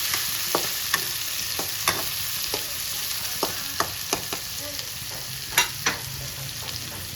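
Moringa leaves stir-fried in hot oil, a soft steady sizzle with a scattering of sharp clicks and scrapes as the pan is stirred, fairly quiet with no voices.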